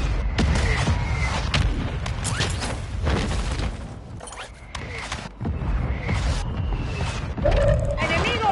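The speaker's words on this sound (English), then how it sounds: "I threw them an airstrike." Airstrike explosions in Call of Duty Warzone, a series of heavy booms and crashing impacts spread across the clip amid gunfire and game noise, with voices talking over them.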